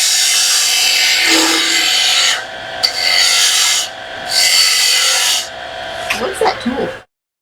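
A bowl gouge cutting wood on a spinning lathe makes a loud, close, hissing scrape in three sustained passes with short breaks between them, then a few lighter scratches before it cuts off.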